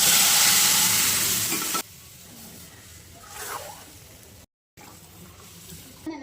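Dal hits hot oil tempering in a pan and sizzles loudly and crackles for a couple of seconds. The frying then settles to a quieter hiss with soft stirring scrapes.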